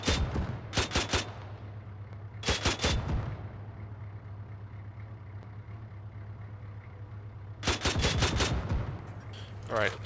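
Bursts of automatic gunfire from the player's weapon in a video game, three separate rapid volleys over a steady engine-like hum from a vehicle, with quieter gaps between.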